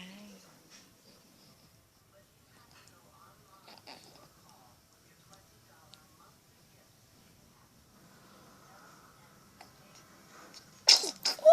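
A person sneezes near the end, a sharp close burst after a mostly quiet stretch with faint background movement.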